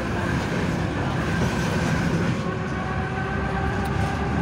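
A tram rolls steadily along its rails, a close, continuous rumble with low clatter that holds evenly throughout without pause.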